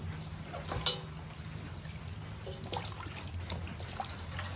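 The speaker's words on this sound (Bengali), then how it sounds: "হাঁসটা পুরা নিলাম, এখন ভালো করে ধুয়ে নিই" Water trickles and splashes faintly as a whole duck is washed by hand, with soft dribbles and a few small splashing bursts over a quiet, steady background.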